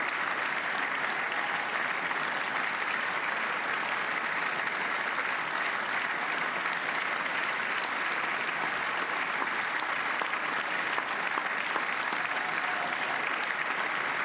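An audience claps steadily and densely for a long stretch, a continuous even wash of many hands applauding, loud and unbroken without cheering or voices rising above it.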